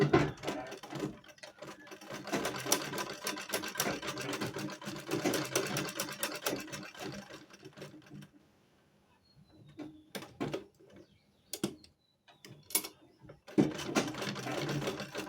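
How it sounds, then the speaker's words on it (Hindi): A sewing machine stitches a baby frock in sustained runs of rapid close whirring, pausing briefly then resuming in short bursts and another run, with no talk. "यहाँ से ऐसे करके सिलाई करनी है।"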